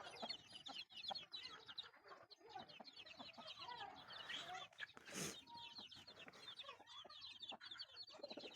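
Several chickens cluck steadily and busily while pecking at scattered ragi grain outdoors at a home. The sound is faint and continuous, with overlapping clucks and a brief rustle midway. No voices are heard.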